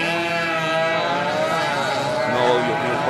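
Motorcycle engines roaring during illegal street racing, a loud, continuous droning whine whose pitch shifts and rises as the bikes rev, filling the whole stretch.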